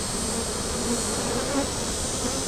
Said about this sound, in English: The drones keep tripping me up because they're such a larger bee.